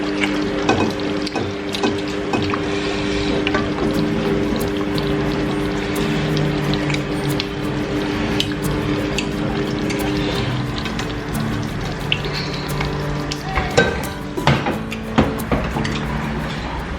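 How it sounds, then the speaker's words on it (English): Boiled tomatoes go into a frying pot of spinach stew with goat meat and beef, giving a steady close sizzle and bubbling with scattered clicks and scrapes from stirring, and no talk. "it's time to just add my tomatoes"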